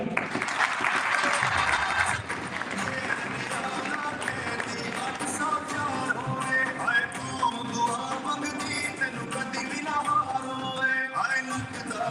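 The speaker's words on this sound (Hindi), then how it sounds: "आप सबकी भरपूर तालियों में" Audience applause at a political protest rally in Dallas, sustained clapping from a crowd with cheering voices mixed in, steady throughout.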